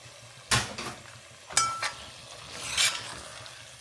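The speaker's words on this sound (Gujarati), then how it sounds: "રાઈસ મિક્સ કરી નાખીએ" A spoon scrapes and knocks through rice being stirred into vegetable masala in a pot for vegetarian biryani, with a few sharp clanks against the metal over a soft sizzling background and no talking.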